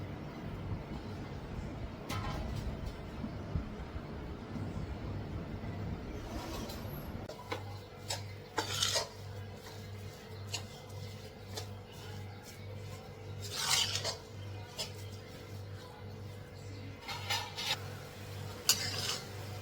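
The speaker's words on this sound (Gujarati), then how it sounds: "ધીમા તાપે આપણે શેકવાનું છે લોટને બ્રાઉન કલરનો થઈ જાય ત્યાં સુધી શેકવાનો છે ધીમે ધીમે હલાવતું રહીશું" Wheat flour roasting slowly in ghee over low heat, stirred with a spoon: intermittent scraping and rubbing strokes over a steady low hum, close and fairly quiet, with no talking.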